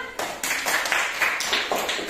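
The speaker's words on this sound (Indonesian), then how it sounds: "Tepuk tangan." Children clapping together in a classroom, a loud rhythmic burst of claps in short patterned groups, close by and without talk over it.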